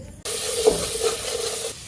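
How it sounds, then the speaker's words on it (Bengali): Vegetables and masala stir-fried in an oily pan at home, a steady close sizzle that starts abruptly, holds for about a second and a half with brief louder spits, then cuts off. "এই যে এখন আমি সবজি রান্না করতেছি, সবজি মশলা কষাইলাম।"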